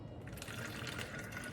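Cooled Tazo passion fruit tea is poured into a water bottle, making a soft, continuous liquid stream that sounds fairly quiet and close.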